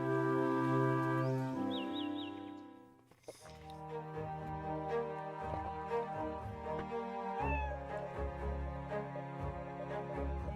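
A cartoon cat meowing in the video game Plan B from Outer Space: A Bavarian Odyssey, a few drawn-out tonal meows over game music, clear and close, with no talk.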